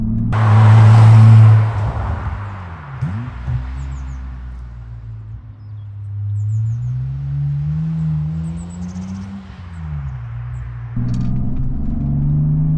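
A BMW 850CSi's V12 engine roars and revs, its pitch climbing and dipping through gear changes as it accelerates hard, loud and close.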